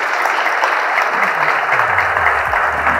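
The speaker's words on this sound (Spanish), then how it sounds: "un aplauso, por favor, al área de riesgos" Steady, fairly loud audience applause at a conference talk, dense clapping from a crowd that holds evenly for the whole few seconds, with a faint low voice briefly underneath.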